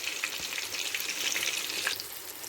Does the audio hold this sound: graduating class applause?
no